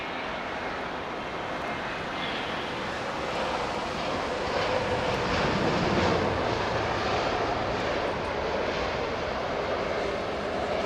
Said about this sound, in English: the all-white 320 just touched down was operating for Air Serbia